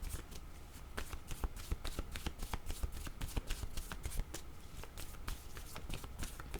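A deck of tarot cards is shuffled steadily by hand, producing rapid crisp riffling flicks at close range that continue without pause and with no talking.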